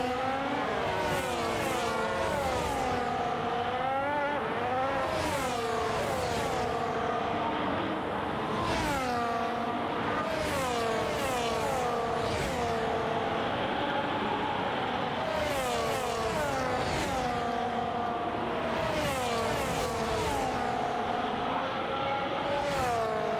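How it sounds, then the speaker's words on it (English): Formula 1 race cars scream past at speed during the Jeddah Grand Prix, engine notes rising and falling in repeated high-pitched surges and downshifts throughout, steady and dense without pause. "You can really see just how fast the cars are going whilst you're watching from this angle."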